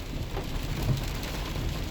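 Steady rain pelts a car as it drives to work, a dense continuous hiss with low road rumble underneath, constant and close with no voices.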